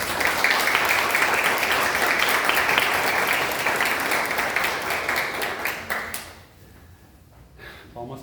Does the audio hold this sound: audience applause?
yes